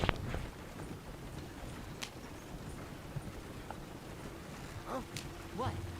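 Horse hooves clip-clopping in Red Dead Redemption 2, a soft uneven patter under game ambience and a voice, with a skittish horse being ridden along.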